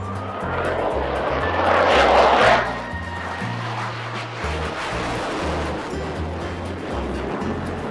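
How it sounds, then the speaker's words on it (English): A fast jet aircraft flies a minimum radius turn at the 2025 Bengaluru air show, its engine roar loud and steady, swelling to a peak midway before settling into a sustained rumble, with no talk. "Now the aircraft is performing a minimum radius turn right in front of you."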